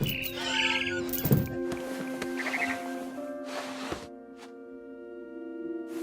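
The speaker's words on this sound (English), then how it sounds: "It was a barn swallow going back to her nest." A barn swallow in What Remains of Edith Finch gives quick chirps and tweets over sustained musical tones, fairly faint and fading toward the end.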